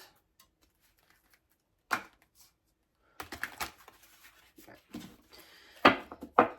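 Two decks of cards are shuffled by hand: light riffling and shuffling rustles come in short bursts, a lone flick first, then a denser stretch of close, crisp card noise with no voices.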